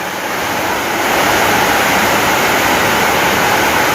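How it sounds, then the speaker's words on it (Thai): Heavy rain pours down outside a house during a morning flood, a loud, unbroken wash of dense hiss that stays constant throughout. "ลมหยุดแล้วบัดนี้เนาะมีแต่ฝน"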